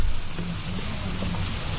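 Steady rain pours down as a dense, even hiss with light pattering, continuous and moderately loud throughout with no voices.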